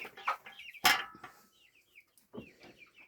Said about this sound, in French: Et voilà, regardez les petits poussins.